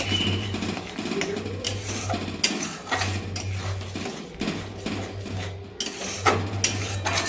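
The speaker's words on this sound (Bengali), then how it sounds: "পনির মশলা দিয়ে এটা ভালো করে নেড়ে নিচ্ছি" Paneer is stirred with paneer masala in a pan for a Bengali matar paneer, making repeated scraping and clinking strokes. A steady low hum sits underneath.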